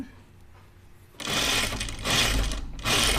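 A home sewing machine stitches a dress: quiet near-silence, then three loud bursts of fast mechanical whirring separated by brief pauses, close by with no voices.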